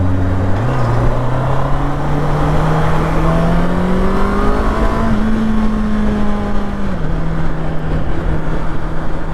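A Honda CBR650R sports motorcycle with E-clutch is ridden at steady speed, its engine droning loud and constant with tones that climb and shift through gear changes over heavy wind rush, with no talking.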